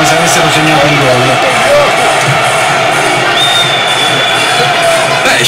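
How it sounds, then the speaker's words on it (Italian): Italian football fans cheering in a packed stadium, a loud, steady roar of crowd noise with whoops and whistles, while a commentator talks over it. "Esultano i tifosi dell'Italia come se avessero segnato un gol."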